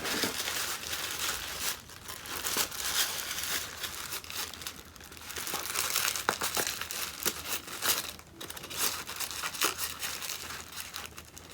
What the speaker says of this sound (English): Now I'm going to take a wire and start wrapping it around the tissue paper.